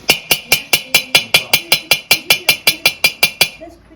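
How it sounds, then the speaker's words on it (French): Silver wire is hammered into wrought iron at a craft workshop in Meknes: about seventeen sharp, ringing metallic taps at a steady quick rhythm, close and loud, then stopping abruptly. "C'est du fer forgé incrusté en fil d'argent."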